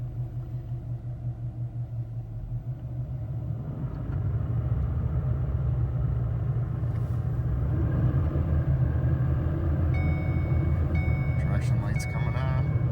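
Car fitted with a Calimer Stage 3 MT82 manual gearbox accelerating through the gears, a steady low engine rumble that swells louder after a few seconds and holds, with faint higher whines and clicks near the end.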